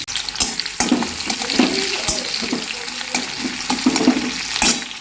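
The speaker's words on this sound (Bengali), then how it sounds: "এখন পেঁয়াজ ফোড়ন দিয়ে দিচ্ছি।" Onions frying in hot oil for a dried fish curry, a bright continuous sizzle close up with recurring stirring scrapes and clatters of the utensil against the pan.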